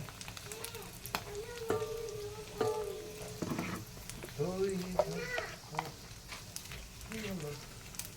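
Dried fish and potatoes sizzle in a pan with a soft, steady crackle, while someone talks over it almost throughout.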